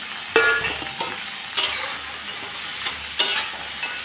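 Lentil dumplings (bori) dropped into a frying pan with gourd shoots and stirred, giving a steady soft sizzle broken by several sharp scraping stirs and clinks of the utensil, close and without talk.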